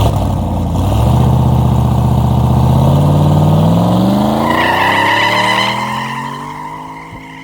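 A car launches hard from a standstill on tires set to 20 psi, the engine revving up loudly through a long rising pull with some tire noise, then easing off toward the end.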